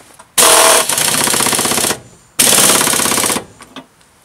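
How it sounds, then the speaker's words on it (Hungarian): Two long, loud bursts from a rattling impact wrench tightening a bolt on Fiat Punto suspension, each lasting about one and a half seconds with a short pause between. "Fönn meghúzom a csavart."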